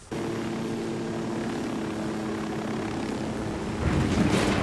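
A helicopter in the game Ghost Recon Wildlands roars with a steady rotor and engine drone as it flies in for a rough crash landing, growing louder with a burst of noise near the end.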